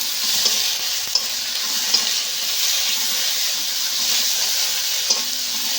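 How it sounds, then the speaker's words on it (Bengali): A ginger, cumin and coriander paste masala fries in oil for a fish and taro curry, a bright continuous sizzle with faint periodic ticks from stirring, close and even with no voices. "জিরে আর ধনে 1 চামচ বাটা দিয়ে দেব। দিয়ে আবার একটু বেশ মশলাটা ভালো করে কষে নেব।"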